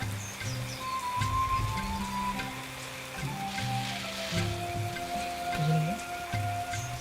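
Steady rain patters in the background alongside several sustained tonal hums and a few faint bird chirps.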